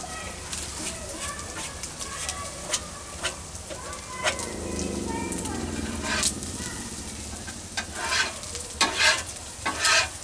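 Onions and corn sizzle steadily in a pan at a campsite breakfast, with frequent sharp crackles and pops over a continuous frying hiss, and people talking in the background.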